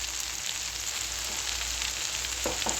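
Amaranth leaves stir-fry in oil in a pan with a steady, loud, dense sizzle throughout, plus a couple of soft stirring scrapes near the end.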